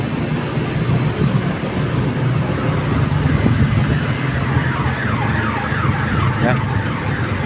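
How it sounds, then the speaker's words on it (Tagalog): Ambulance sirens wail through busy city traffic in Dumaguete City, rising and falling over a dense rumble of engines and road noise. The sirens are fairly loud and continuous and no one speaks. "daming ambulansya guys, daming ambulansya"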